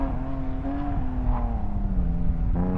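A BMW engine at an autocross event revs and shifts through rising and falling pitches, a steady strained drone from a nearby car pushed hard on course.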